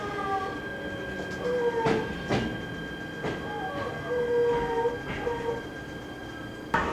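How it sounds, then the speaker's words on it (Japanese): A descending train enters a tunnel toward an underground station, wheels clattering steadily from inside the car with periodic sharp rail clicks, a horn-like tone and a low rumble. "私の乗っている下り列車はトンネルに入り地下にある駅に到着します"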